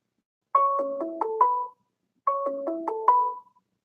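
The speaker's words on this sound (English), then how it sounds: "takes it a minute to actually ring on my phone." Mobile phone ringtone for an incoming call, a bright stepped melodic tune played twice with a short gap between, clean and close with no talk.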